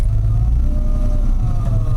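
A manual truck's engine idles low and steady as the brake is released and it begins to pull away, with a loud, close rumble throughout and no talk.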